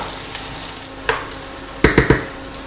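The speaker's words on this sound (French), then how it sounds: "Alors, je commence déjà à mélanger" Salted and peppered onions stirred in a pan over low heat, giving a soft sizzle under a few sharp utensil knocks and a quick cluster of three scrapes near the end.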